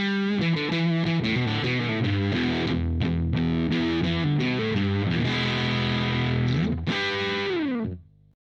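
An electric guitar plays a riff with heavy distortion through a speaker cabinet, loud and up close, with chugging chords and sliding notes before an abrupt cutoff near the end.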